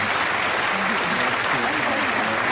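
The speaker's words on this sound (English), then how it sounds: "Applaud them both, if you please." A studio audience at a 1974 television panel game applauds steadily, dense and continuous clapping that fills the whole moment without pause.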